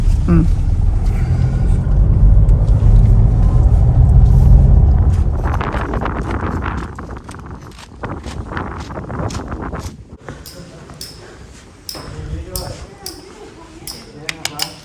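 A horse being loaded into a lorry: a steady vehicle rumble gives way to sharp, irregular knocks and clatters of hooves on the ramp and floor, close by, with people talking nearby.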